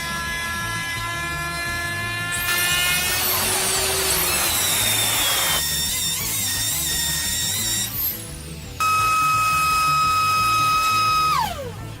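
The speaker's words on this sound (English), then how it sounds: "I slowly and carefully creeped towards the top of the table with the router" A router cuts a shallow recess into a wooden desktop, a high whining motor whose pitch rises and falls as it moves through the wood, close and continuous with short changes in load.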